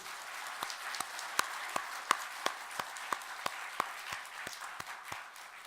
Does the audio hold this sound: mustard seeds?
no